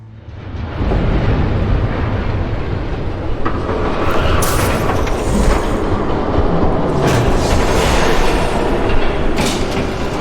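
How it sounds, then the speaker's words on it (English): A train rushes past in Batman: The Telltale Series, a loud, close, sustained rumble that swells in after the first second, with rattling wheels and bright metallic squeals and hisses over the roar. "There's a train coming."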